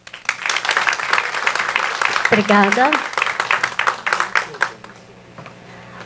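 Audience applause welcoming a speaker to present at a São Paulo Metro talk, with dense clapping filling the room, someone briefly speaking partway through, and the applause thinning out toward the end.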